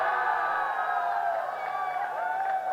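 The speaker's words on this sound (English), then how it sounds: "There's a lot of applause for that as Muizz steps forward" Crowd cheering and applauding from spectators for a Malaysian driver stepping onto the top podium step after a 2017 F4 Southeast Asia race, a steady continuous roar of cheers throughout.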